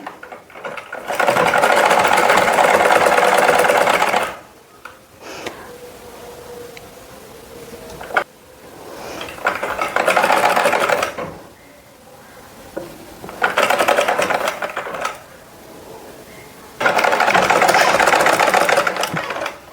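An electric sewing machine stitches a neck design on a garment. It whirs loudly and close in three long bursts, with quieter pauses between runs.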